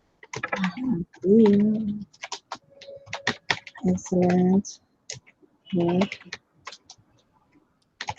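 Someone types student feedback on a computer keyboard, producing short bursts of light clicks scattered between stretches of a nearby speaking voice.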